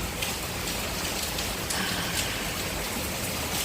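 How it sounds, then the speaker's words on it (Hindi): Rain falling steadily in a residential colony, a continuous even hiss of drops spread across the whole stretch with no pauses, close and moderately loud, with no voices. "बारिश जब पड़ती है"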